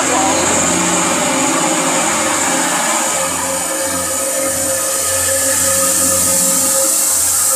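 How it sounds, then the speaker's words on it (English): A diesel train engine runs continuously with a loud, steady droning rumble and a faint high whine, no talking over it. "And the diesel in the background still going."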